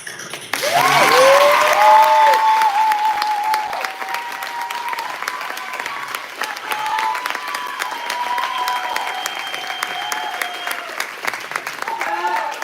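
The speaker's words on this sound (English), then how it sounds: "can we please get the grandest round of applause possible for this insane," An audience at an a cappella concert, Loyolacappella's Lake Show, bursts into loud, sustained applause. Sung or held voices ride over the clapping throughout.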